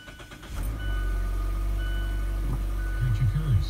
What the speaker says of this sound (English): I'll go ahead and just turn on the car.